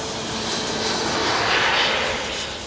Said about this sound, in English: a Hercules aircraft flies into RAF Lynham